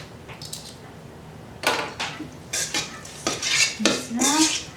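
Cutlery clinks and scrapes against a dish while Thai chicken larb salad with shallot, spring onion and coriander is mixed, a series of close, bright clatters and rustles in irregular bursts after a quiet start.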